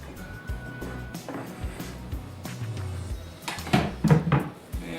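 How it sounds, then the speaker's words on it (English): A cutting board is moved aside on a kitchen counter while making fermented salsa, with clattering knocks and scrapes growing louder near the end, mixed with rattling dishes and utensils. "let's get this cutting board out of the way"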